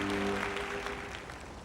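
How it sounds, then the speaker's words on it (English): Faint crowd applause from a theatre in the Workers & Resources: Soviet Republic city-building game, a soft steady patter of many hands clapping at low volume that slowly tapers off. "Even applaud when you click on it."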